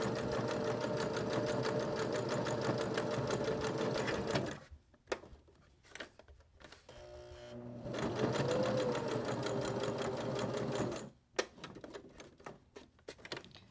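A home sewing machine runs in a steady rapid whir, stitching through bulky fabric corners, then stops and starts in short uneven bursts as it is worked slowly, with brief pauses between runs; no one talks.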